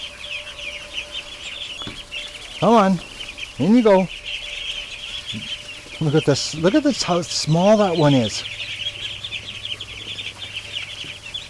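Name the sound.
ducks being herded into the back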